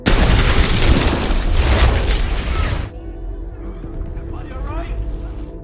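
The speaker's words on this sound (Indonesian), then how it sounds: "setelah Victor meledak, John dan tim harus diserang oleh sniper" A loud, rumbling explosion roars for a few seconds, then gives way to a quieter rumble with indistinct sounds underneath.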